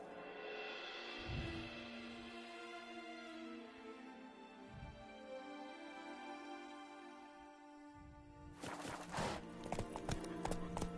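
Roach the horse from The Witcher 3: Blood and Wine gallops in a game world, with a few heavy hoof thuds over a sustained musical drone and a louder clattering flurry near the end.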